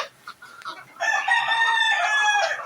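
A farm rooster crows loudly and close, a long drawn-out call following a few short clucks from chickens at the start, with no talking.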